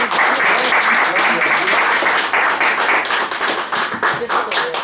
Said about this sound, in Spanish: Dale un aplauso a nuestro Señor